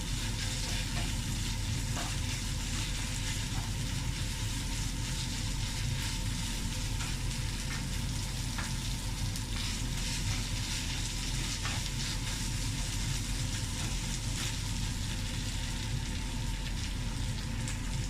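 Onions sauté in hot oil with ginger-garlic paste, giving a steady, even sizzle with faint crackles and no talking.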